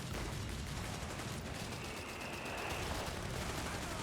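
Machine gun and support gun fire echo through a Company of Heroes 3 battle, with rapid bursts and booming shots over a dense, noisy battlefield wash. The sound is steady and moderately loud.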